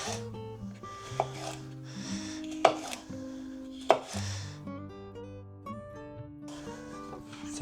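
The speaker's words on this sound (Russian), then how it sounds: "Теперь возьмем сельдерей, тоже порежем." A knife chops celery on a board, with a few sharp cutting knocks under a layer of soft background music, quiet and close.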